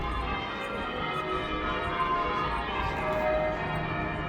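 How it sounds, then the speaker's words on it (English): The bells of Bristol Cathedral peal across the city centre, faint and distant. Their ringing tones sit beneath a steady wash of outdoor street noise, and nobody is talking. "So you can hear in the background the bells of Bristol Cathedral."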